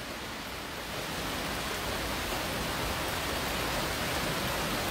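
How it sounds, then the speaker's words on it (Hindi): Heavy stormy rain pours down in a dense, steady hiss that swells slightly after the first second and holds loud and even, with no distinct thunder crack standing out. "यह देखो तुम बिजलियाँ कड़क रही और बारिश तूफानी"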